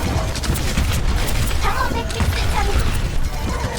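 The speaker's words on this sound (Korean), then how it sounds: "하늘에다 쏘는 폭죽인데?" Fireworks bursting in the sky during an Overwatch match, a dense run of crackling pops and booms that carries on steadily with no break.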